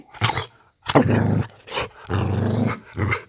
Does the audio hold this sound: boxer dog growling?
yes